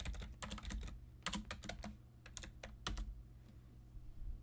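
Quick, uneven keystrokes on a computer keyboard, close and crisp, in short bursts with brief pauses while a network command is entered, no speech over it.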